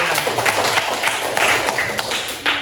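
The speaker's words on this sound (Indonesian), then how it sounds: "Tepuk tangan." Applause from a classroom of students after a correct answer, a scattered patter of many hands clapping at moderate volume, fairly close, with some brief voices mixed in.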